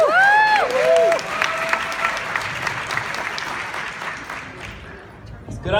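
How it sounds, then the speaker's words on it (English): Audience applause at a speaking event, a dense, loud burst of clapping that carries through and fades slightly, with a brief tonal sound at the start. "please give a big round of applause for Mr."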